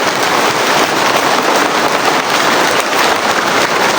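Heavy rain pouring down outdoors, a loud, dense and unbroken hiss of falling water close by, with no voices over it.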